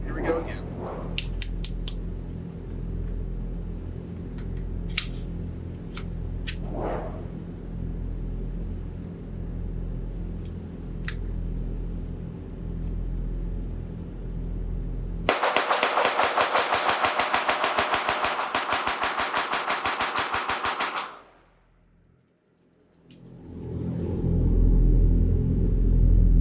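A Kel-Tec CP33 quad-stack .22 LR pistol fires at a range. A few sharp, scattered cracks come first, then a dense, rapid string of shots lasting several seconds over a steady low rumble.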